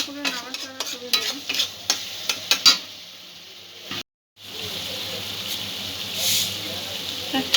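Spices stirred in a hot pan for a creamy chicken curry: sizzling frying with scraping spoon strokes, then a brief pause before the steady hiss of cooking resumes, up close.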